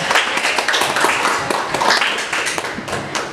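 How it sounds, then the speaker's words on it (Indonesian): A classroom of students claps for quiz winners at the end of a university teaching session, a loud, slightly uneven patter of hands that keeps going, then thins toward the end. "Oke, tepuk tangan."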